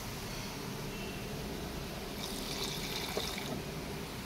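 Water is poured into a pan of cooking spices, a soft steady trickle and splash over a faint background hiss, with no talk.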